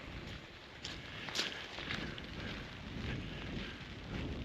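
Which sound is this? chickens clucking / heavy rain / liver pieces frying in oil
heavy rain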